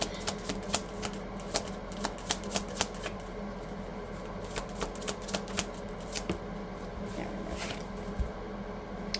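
Tarot cards being handled and shuffled, a quick series of crisp flicks and snaps over a steady low background hum, fairly close and without talk.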